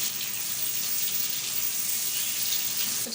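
Chopped onion frying in oil for an aloo palak curry, a constant even hiss like running water that holds steady throughout, close and unaccompanied.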